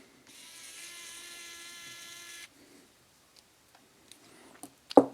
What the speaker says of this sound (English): So let's remove all these screws here.